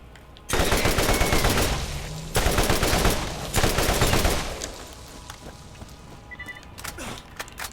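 Combat rifle gunfire in the Borderlands video game: loud sustained automatic bursts in three long volleys, with a quieter tail of game ambience at the end.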